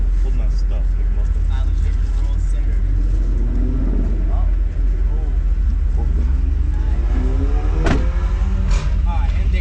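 A custom RollsStang car creeps forward to pull up near a garage, its steady low engine rumble filling the scene while people talk nearby over it.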